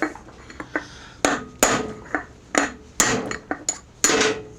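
Sharp metallic hammer strikes ring out irregularly, about a dozen of them of varying force, as worn, greasy front wheel bushings are knocked out of a John Deere E130 riding mower. No talking is heard.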